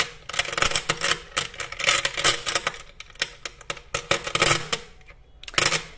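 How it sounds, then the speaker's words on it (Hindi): Small wish-making pebbles are picked out by hand during a tarot reading. Close, dense clicks and clattering rattles come in uneven bursts as the stones knock against each other, with a short pause before a final rattle. "ये विश मेकिंग पेबल्स हैं चलिए निकालते हैं इनमें से कुछ पेबल्स"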